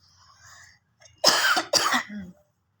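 Two sharp coughs in quick succession, close and loud, followed by a brief throaty rasp in an otherwise quiet room.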